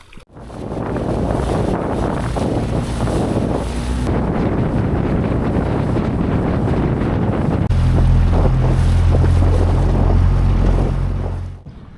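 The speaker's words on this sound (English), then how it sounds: "A very short dinghy ride" A small dinghy motors across the water near Kyparissi, its outboard drone steady and loud beneath heavy wind buffeting the microphone and splashing waves, with the engine note deepening toward the end.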